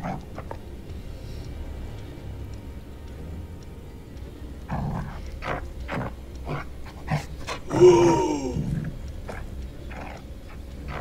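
A dog in a horror video game pants steadily and shuffles about close by, with soft chewing-like movement noises and a brief louder rustle near the end.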